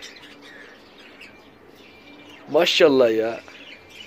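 A cockatiel gives a loud, near burst of harmonic calls lasting under a second, standing out above a quiet outdoor park background after a stretch of low murmuring.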